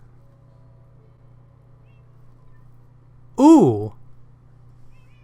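A single drawn-out Minecraft cat meow rises and falls over a low steady hum, standing alone briefly in an otherwise quiet scene; a voice speaks faintly nearby.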